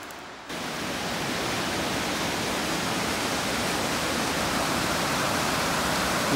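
Steady broadband rush of a creek spilling down a slide waterfall, continuous and fairly loud from just after the start, with no voices over it.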